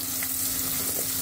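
Onions with ginger-garlic paste frying in a pan for aloo bhujia, a close, steady, crackling sizzle with light stirring and no talking.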